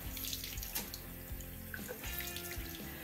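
A makeup sponge, a genuine beauty blender, is rinsed under a running tap into a sink, a close, continuous splashing stream with small squelches as it is squeezed.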